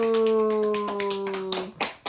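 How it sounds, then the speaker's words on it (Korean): A small group at a Korean church winter camp claps briefly in celebration, scattered hand claps and taps over a fading sustained tone, ending in a few sharp claps. "박수!"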